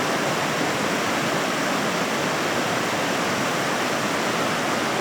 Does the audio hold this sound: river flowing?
yes